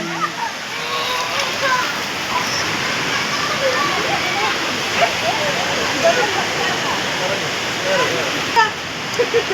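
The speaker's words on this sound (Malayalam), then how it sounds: "ഇവിടെ ഫേമസ് ആയിട്ടുള്ള ഇത് തോട്" Rushing water of a stream pours and splashes steadily nearby, a continuous broad wash of sound, with faint voices of people talking in the background.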